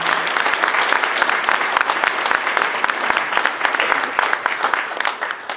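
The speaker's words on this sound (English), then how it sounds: "If we could give them a round of applause, too." An audience at a school district Veterans Day breakfast gives a round of applause, many hands clapping steadily at moderate loudness, thinning slightly toward the end.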